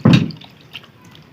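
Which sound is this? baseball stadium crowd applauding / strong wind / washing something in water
washing something in water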